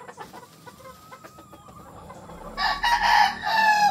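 A young rooster stag crows loudly and close in the second half, over a background of quieter clucks and faint farmyard bird calls.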